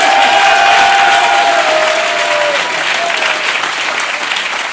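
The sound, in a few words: scattered applause from audience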